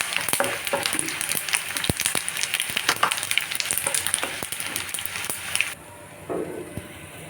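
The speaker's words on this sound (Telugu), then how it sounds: "నేను ధనియాలు మిరపకాయలు వేయించుకొని మిక్సీ జార్లో తీసుకున్నానండి." Coriander seeds and red chillies dry-roasting in a pan, with a steady crackling sizzle broken by sharp clicks and scraping stirs. The sizzle cuts off near the end, leaving a brief quieter clatter.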